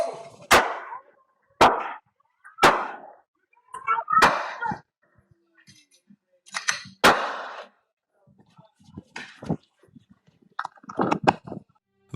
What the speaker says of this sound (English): The gunshots rang out almost immediately.